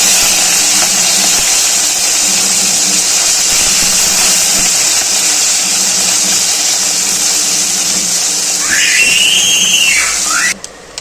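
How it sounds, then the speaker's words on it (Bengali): Small salt-and-turmeric coated mourala fish fry in a little hot oil with a loud, steady hiss and sizzle that fills the whole stretch, and a brief high whine rises near the end. "নুন হলুদ মাখানো মোড়লো মাছ ভেজে নেব তেলে দিয়ে"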